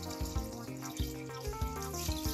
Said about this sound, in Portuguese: Agora, nós vamos colocar água para cobrir, tá certo?